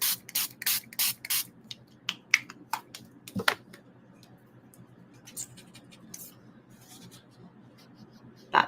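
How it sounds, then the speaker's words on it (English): A spray bottle mists onto an art journal page in a rapid series of sharp spritzes, then falls quiet apart from light scratching handling noises and one last spray. "I'm going to spray this first,"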